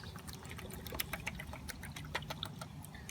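Antiseptic liquid poured slowly into a bottle, a soft trickle with small splashes and clinks close by, faint and alone.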